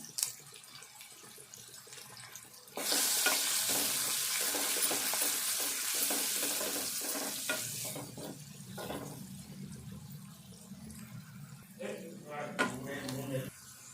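Garlic and onion drop into a hot pan of oil with a sudden loud sizzle that slowly fades, with occasional stirring clinks and a voice talking nearby.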